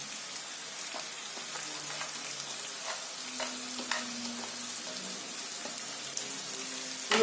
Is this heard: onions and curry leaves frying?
yes